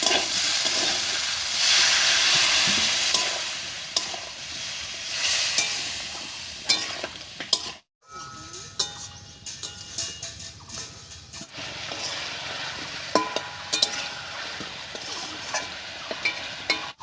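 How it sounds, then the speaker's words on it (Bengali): Ground spice paste with water, salt and turmeric being sautéed and stirred in a pan for a vegetarian jackfruit curry, a loud continuous hiss with scraping strokes, a brief pause midway, then stirring resumes with clinks. "এবার মশলা বাটা জল দিয়ে ভালো করে কষিয়ে নেব"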